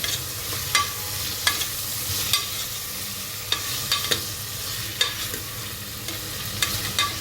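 Ginger garlic paste with tomatoes sizzling softly in a pan for sambar rice, a steady low fry broken by intermittent clicks and scrapes of stirring.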